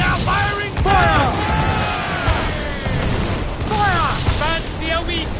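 Cannon fire from a sailing warship in Assassin's Creed 4 booms repeatedly under loud shouting voices and layered game music and effects, with the blasts blending into a dense, continuous battle din.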